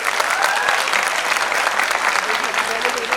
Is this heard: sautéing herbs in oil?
no